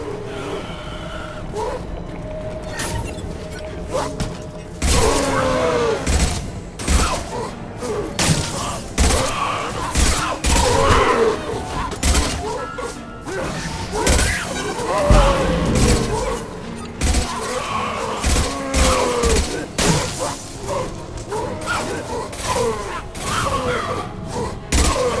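Mass Effect 2 gunfight aboard the Normandy, with repeated loud weapon bursts, thuds and booms over a dense, busy game soundscape for about twenty seconds, with voices mixed into the action.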